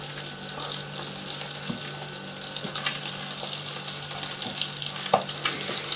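Sausages and burgers frying together in a pan, a constant bright sizzle with scattered pops and small clicks, close and steady for several seconds without speech.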